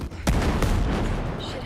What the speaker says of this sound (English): Mortars coming in hot! Shit. Hostile mortars in.